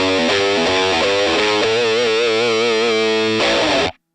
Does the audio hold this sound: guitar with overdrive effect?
yes